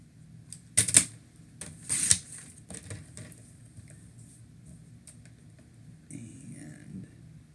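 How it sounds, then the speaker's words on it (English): A paper trimmer slices cardstock for a handmade Christmas card, giving a few short, sharp cutting strokes, close by and alone, against a quiet room. "So line that up, trim, 2 more sides to go."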